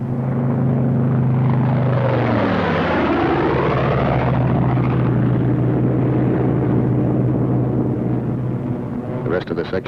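Propeller aircraft flying in loose string formation, one plane behind the other, as one peels off. A loud, close engine drone drops in pitch as it passes, then a steady roar continues.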